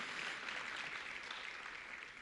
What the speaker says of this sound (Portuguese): Aplauda isso, igreja.